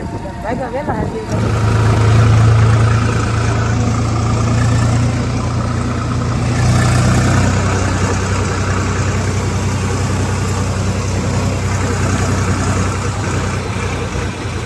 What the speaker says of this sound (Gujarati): આગળ ટ્રેક્ટર ચાલુ જાય છે